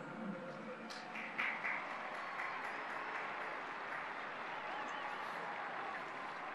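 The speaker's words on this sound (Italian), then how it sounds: "Un applauso ai bambini." Applause from a gathered crowd after greetings to children at a Sunday Christmas-season address, a sustained broad wash of clapping that holds steady throughout at moderate distance, with faint scattered voices mixed in.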